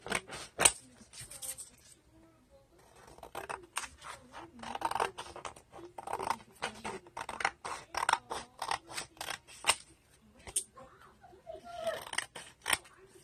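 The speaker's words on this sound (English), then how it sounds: "I'm going to take a pair of scissors" Scissors snip repeatedly through paper in quick, irregular bursts, crisp and close, with brief pauses between runs of cuts.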